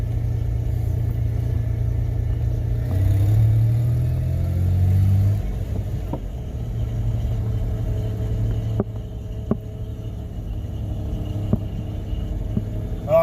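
A truck engine idles steadily in the open, a low continuous rumble with a brief surge in revs partway through, then settling back to a smooth idle with a few sharp clicks near the end.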